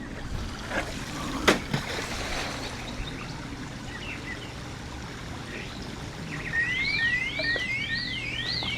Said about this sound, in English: It set it off.